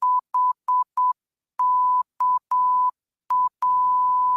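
Morse code beeps at a single steady pitch, a mix of short dots and longer dashes in an irregular pattern, clean and close with silence between them and a long final tone.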